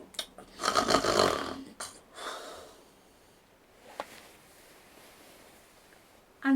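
A man snoring in a narrated story, a loud raspy burst of several seconds followed by fainter breathy snores and a short snort, alone with no talk.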